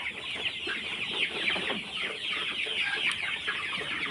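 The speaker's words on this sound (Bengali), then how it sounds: "মুরগিগুলো মোটামুটি ভালো আছে" Sonali chickens cluck steadily on a farm, several birds close by in a continuous busy chorus with no one talking.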